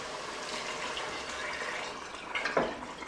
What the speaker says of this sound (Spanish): Una vez que ya han pasado unos 3 minutitos, vamos a echar agua.